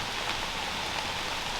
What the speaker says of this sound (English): You can tell it's raining pretty hard